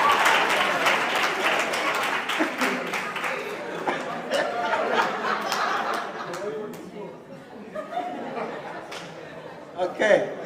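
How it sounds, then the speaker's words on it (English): Applause from a conference audience honouring a speaker, dense and steady at first and then thinning toward the end, with crowd chatter and light laughter mixed through it. "let's continue to clap for him"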